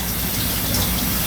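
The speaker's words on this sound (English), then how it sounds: "So I'm rinsing the noodles off with cold water." Cold tap water runs steadily over cooked lasagna noodles being rinsed, a close, continuous splashing gush with no voices.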